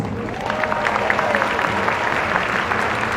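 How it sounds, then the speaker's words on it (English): Audience applause after a Māori cultural performance at a Pacific arts festival, a steady, loud wash of many hands clapping close by, sustained evenly without a break for the whole stretch. "please give yourselves a round of applause"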